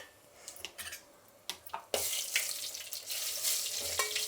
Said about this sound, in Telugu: ఇప్పుడు నూనె వేడెక్కింది, ఆవాలు వేసుకుందాము. ఇప్పుడు ఎండుమిర్చి వేసుకుందాము.